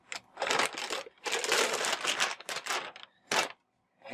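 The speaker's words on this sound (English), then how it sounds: "we'll go ahead and rip this tape open" Very sticky packing tape rips open on the box of a Bitmain Antminer Z9 Mini in several loud, close tearing bursts with brief gaps, ending in a short silence.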